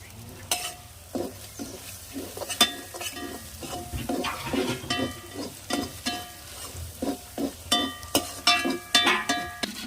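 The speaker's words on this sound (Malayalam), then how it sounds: "ഫ്രൈഡ് റൈസ് ഇതിലാണ് മിക്സ് ചെയ്യണത്." Fried rice tossed in sunflower oil sizzles in a pan while a utensil stirs and scrapes it in repeated close clatters, with no talking.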